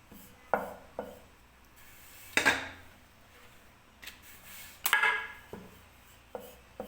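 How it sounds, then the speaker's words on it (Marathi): Chapati dough being rolled out with a rolling pin for aloo cheese paratha, heard as intermittent soft rubbing and light wooden knocks, with a few sharper clacks among quieter scraping passes, close by and without talk. "अशीच मी दुसरी सुद्धा चपाती लाटून घेणार आहे"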